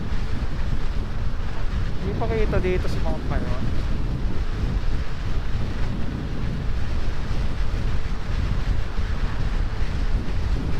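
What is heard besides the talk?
strong wind blowing into the microphone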